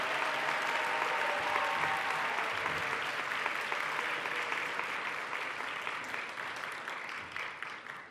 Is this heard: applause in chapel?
yes